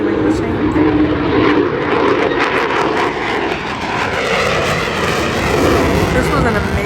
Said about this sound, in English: here's the Flying Fortress again, flying right overhead